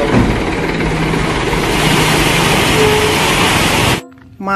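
A toy dump truck gives off a loud, steady, noisy engine rumble for about four seconds, then stops suddenly.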